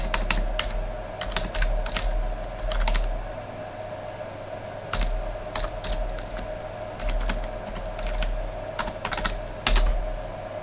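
Rapid bursts of keystrokes on a computer keyboard while editing a config file on a Raspberry Pi, clattering in uneven clusters over a steady low electrical hum, no voices.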